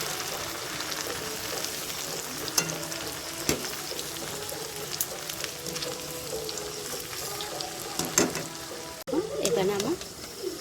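A snack of raw potato and wheat flour frying in oil gives a continuous close sizzle with scattered stirring clicks, and a voice comes through faintly at times.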